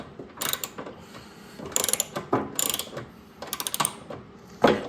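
Ratcheting wrench turning a bolt on a Troy-Bilt snowblower during a drive belt replacement, giving several close, bursty series of clicks with short pauses between strokes.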